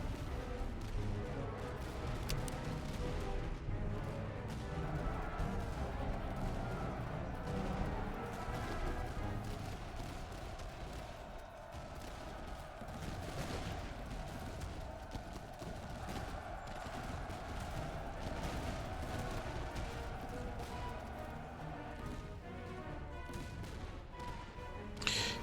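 Continuous battlefield din from the Master of Command strategy game, with dense overlapping cannon and gunfire blasts forming a loud, unbroken roar of volleys and distant booms for the whole stretch.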